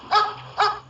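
Two sharp barks from a police dog during a training exercise in Kenitra, close and loud, about half a second apart.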